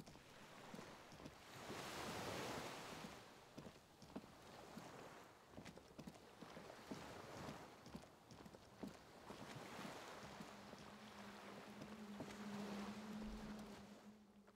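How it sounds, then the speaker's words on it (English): A skiff sways on the waves beside a dock in Disco Elysium: soft water lapping and wind, a gentle surging wash that swells and fades, with a low hum entering toward the end. "The skiff is swaying on the waves by the dock."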